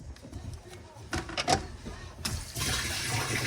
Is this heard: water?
yes